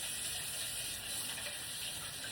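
Tap water runs steadily into a kitchen sink while waiting for it to warm up for washing dishes, a constant broadband gush at moderate level with no talk over it.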